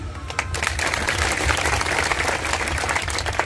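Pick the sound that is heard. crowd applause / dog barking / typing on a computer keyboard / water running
crowd applause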